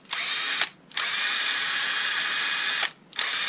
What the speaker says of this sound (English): this is just a drill driver